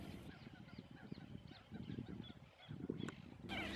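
A pair of collared ducks resting at a lagoon, repeated soft honking calls over a low outdoor murmur, with a brighter burst of sound near the end.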